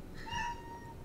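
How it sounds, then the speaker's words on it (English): A house cat gives a single short, fairly quiet meow, heard close by and alone. "my cat's meowing at me."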